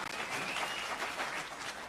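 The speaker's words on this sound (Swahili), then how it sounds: "Tumpige makofi." A crowd at an outdoor political rally in Kajiado claps in a brief, steady burst, the applause sounding somewhat distant and even throughout.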